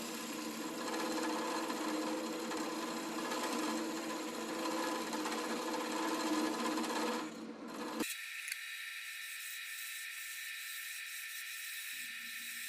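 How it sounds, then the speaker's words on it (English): Dense wenge wood turns on a lathe in a sped-up run, a steady high rasping hum from the tool on the spinning piece that cuts off sharply partway, leaving a quieter thin hiss. "probably 8 times speed because this wood it's fairly hard to turn because it's so dense"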